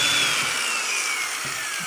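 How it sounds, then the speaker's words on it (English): A power drill bores a 3/16 hole into a kayak hull for a rudder clip, a steady high-pitched whine running loud and continuous with a slowly falling pitch. "we're going to drill"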